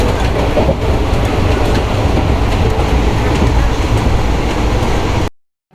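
Loud, steady rumble of a train arriving at Repalle station, its last stop, with rattling carriages and faint clacking, continuous until it stops abruptly, then near silence.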